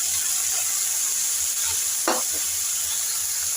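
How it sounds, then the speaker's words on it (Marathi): Soaked moong dal hits a hot pan already holding chopped dill greens, giving a short sharp burst over a steady background sizzle. "आता यावरती भिजवलेली मुगाची डाळ आहे ती टाकणार आहे"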